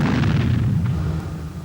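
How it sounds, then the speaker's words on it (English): A balloon filled with a gas and oxygen mixture explodes in one sharp deep boom, loud and close, followed by a rumbling decay that fades over about a second. "This balloon is filled with a mixture of gas and oxygen."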